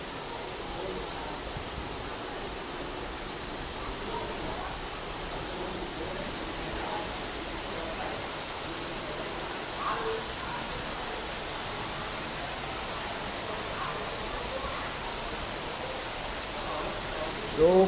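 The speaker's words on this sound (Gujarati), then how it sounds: "હાલ જબરજસ્ત વરસાદ ચાલુ થઈ ગયો" Heavy rain pours down steadily during a downpour on the Janmashtami festival, a dense, even hiss holding constant for the whole stretch with no pauses, and a brief louder knock near the end.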